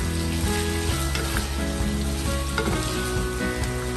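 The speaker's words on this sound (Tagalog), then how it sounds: "And then, igisa lang natin siya" Chicken drumsticks sauté with garlic and onion in a pan for adobo, giving a loud, continuous close-up sizzle of frying with occasional stirring scrapes.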